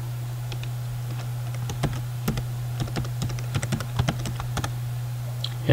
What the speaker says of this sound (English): we'll type in that password I gave you earlier